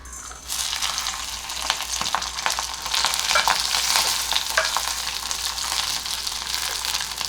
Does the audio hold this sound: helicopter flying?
no